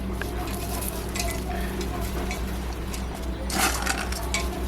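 Onions with coriander powder and other spices are stirred in a pan for chicken biryani, giving a steady close sizzle with scraping and clinking from the spoon.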